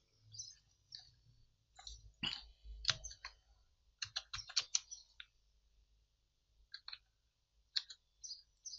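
Keys tapped on a computer keyboard while typing a name into a title text box in InPage, coming as quiet irregular bursts of clicks with short pauses between, close by, with no talking.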